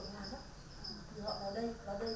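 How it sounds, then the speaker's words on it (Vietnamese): Crickets chirp steadily on a cricket farm, a faint, repeated high-pitched trilling over soft background noise. "Ở trong trang trại này thì chúng ta có thể nghe được tiếng dế kêu mỗi ngày."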